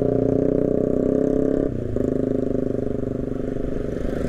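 Motorcycle with a loud aftermarket exhaust, riding near a beach in Tangerang: a close, steady, throaty engine drone with rapid firing pulses that dips briefly midway, then carries on.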